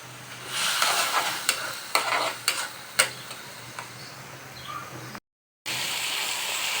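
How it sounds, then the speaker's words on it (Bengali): Fish being sautéed in a pan gives a steady close sizzle with several sharp spatula scrapes and stirring knocks, a brief dropout near the end, and no talking. "মাছগুলোকে সুন্দর করে কষে নিচ্ছি"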